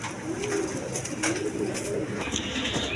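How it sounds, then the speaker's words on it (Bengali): Young pigeons, two pairs kept for sale, coo softly in repeated low rolling calls, close by and fairly quiet against a faint hiss of background noise. "এখানে 2 পেয়ার কবুতর আছে, বাচ্চা কবুতর, 5-6 ফেদারের।"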